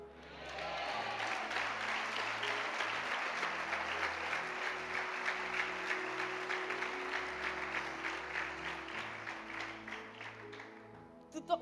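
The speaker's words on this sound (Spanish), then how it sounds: "Tú ahora aplaudes y dices gloria a Dios, amén." A church congregation applauds during a religious testimony, with sustained, rhythmic clapping over soft background music that carries on evenly for several seconds before stopping.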